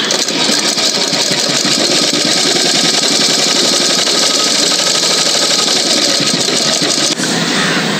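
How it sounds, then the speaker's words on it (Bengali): A sewing machine runs a steady, fast stitching drone while sewing a pressed seam on a doll's frock. It whirs loud and close, without pause, for about seven seconds, then cuts off abruptly. "এর উপর দিয়ে আমি এবার একটা চাপ সেলাই দেব।"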